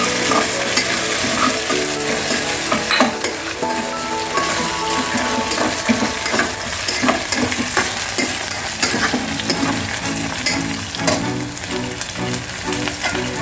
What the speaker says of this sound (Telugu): ఎర్రగడ్డలు ఫ్రై అయిన తర్వాత అల్లం వెల్లుల్లి పేస్ట్ వేయాలండి.